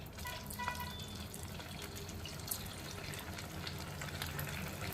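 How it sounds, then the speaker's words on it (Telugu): Leftover idli pieces deep-frying in a pan of hot oil for crispy idli fingers; a faint, steady bubbling sizzle runs throughout with no voices. "ఇలా ఇడ్లీలన్నీ ఆయిల్లో వేసి బాగా ఫ్రై చేసుకోవాలి"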